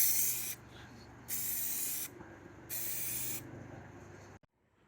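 An aerosol can sprays teal paint onto a drive-in movie speaker chassis in three separate hissing bursts of under a second each, with short quiet pauses between them and a faint low hum underneath.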